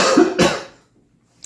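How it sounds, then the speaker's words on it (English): A person in a kitchen coughs twice in quick succession, close and loud, then goes quiet. "And yes, I turn my head every time I cough."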